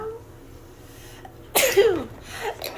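A dog sneezes during play, a sharp burst followed by a snorting exhale after a quiet stretch, with another short snort near the end, loud and close.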